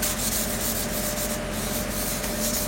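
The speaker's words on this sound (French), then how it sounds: "Ensuite, petit ponçage avant la mise à l'eau." Sanding on a boat hull's CopperCoat antifouling before launch gives a steady, loud, close abrasive rasp that runs without a break, with no voices over it.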